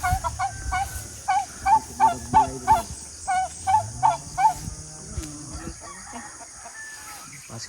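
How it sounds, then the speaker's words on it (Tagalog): Turkeys and other farmyard fowl calling outdoors near a fish pond site, a rapid series of about a dozen loud, evenly spaced gobbling honks followed by a lower drawn-out call, with no talk. "May mga pabo, mga tikal-tikal."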